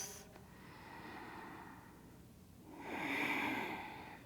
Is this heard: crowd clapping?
no